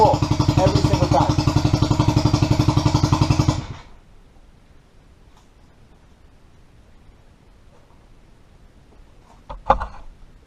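A small outboard motor on a 12-foot American jon boat runs with a loud, rapid, rhythmic chugging for a few seconds, then cuts off, leaving quiet background with a brief knock near the end.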